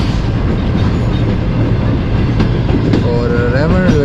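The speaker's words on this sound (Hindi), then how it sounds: "दोस्तों रेवंड रेलवे स्टेशन से ट्रेन जो है वो निकल चुकी है।" Shalimar Express train pulling out of Raiwind railway station, a loud, steady rumble and clatter of wheels on rail, with rising metallic squeals near the end.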